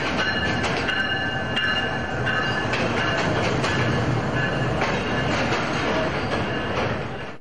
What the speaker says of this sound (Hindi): ये कराची का कैंट रेलवे स्टेशन है